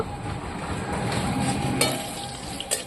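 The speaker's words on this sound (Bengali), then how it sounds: "সঙ্গে দুটো শুকনো লঙ্কাও ভেজে নেব।" Two dried chillies fry in hot oil in a pan, giving a steady close sizzle with light crackle throughout and a couple of sharper pops near the end.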